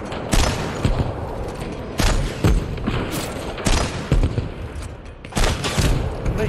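Rapid gunfire from a fast-firing gun in a video game, loud, dense bursts of shots with a few heavier booming hits spaced through it, no talk over it.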